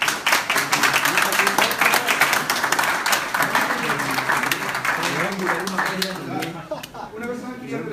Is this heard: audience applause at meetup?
yes